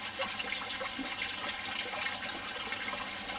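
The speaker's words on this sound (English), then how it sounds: "We've ran water over it" Water runs steadily from a tap over a metal object pulled up while magnet fishing, a constant close hiss and splash for a few seconds with no talking.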